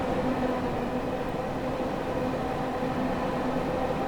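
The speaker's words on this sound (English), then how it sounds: "Another train coming our way." Steady, continuous rumble of a train running along the tracks in the video game Train Sim World 2, with a constant low hum and faint tonal whine throughout.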